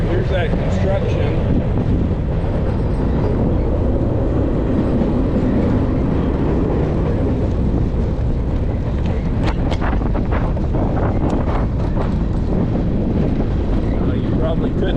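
A train rolls past close by during an autumn bike ride, a steady loud rumble and wind-buffeted roar that fills the whole stretch and drowns out everything else.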